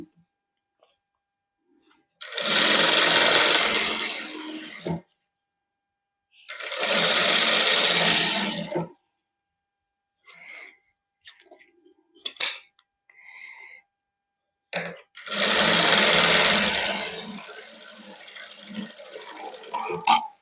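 A sewing machine stitches buckram onto a salwar cuff in three separate runs of rapid, whirring mechanical chatter, close by, with quiet handling clicks and pauses in between.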